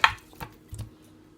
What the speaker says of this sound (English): So I have my pot. I'm going to pour my cow foot.